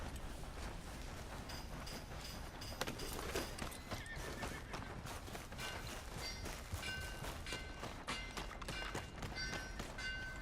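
A horse whinnies and its hooves clip-clop steadily in Red Dead Redemption 2, close and clear over a constant layer of outdoor game ambience, with no talking.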